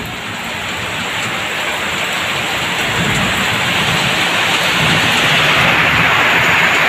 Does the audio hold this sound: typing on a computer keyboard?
no